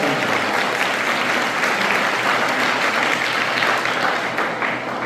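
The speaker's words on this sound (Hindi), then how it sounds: "इस बात के लिए जोरदार तालियां," Loud, sustained applause from an audience fills the space, a dense steady roar of clapping hands that holds evenly and begins to fade only at the very end.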